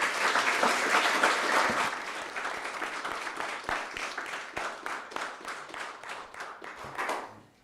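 Applause at a school board candidate forum swells loud at once, then thins into scattered, separate claps that taper off over several seconds.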